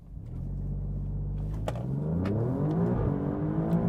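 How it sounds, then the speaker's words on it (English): A 2018 Alfa Romeo Giulia Quadrifoglio launches at full throttle in race mode, its engine roaring loud and close, the pitch climbing steadily through the run with no talk. "Let's just go ahead and floor it."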